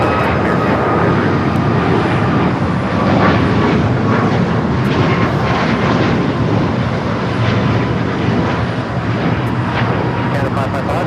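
Airliner at Los Angeles International Airport rolling for takeoff on runway 25 right, a loud continuous engine roar and rumble with air traffic radio chatter running over it.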